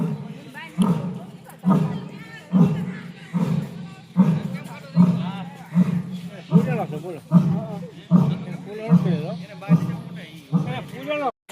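Deep, rhythmic roaring grunts from a lion in a zoo enclosure repeat about once a second, loud and close, with people talking intermittently over them.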